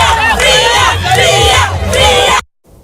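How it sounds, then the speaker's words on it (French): A large crowd massed around a boxing ring roars and cheers loudly in sustained waves of shouting, then cuts off abruptly near the end. "Le public massivement mobilisé autour du ring a animé cette première journée par des acclamations, des ovations"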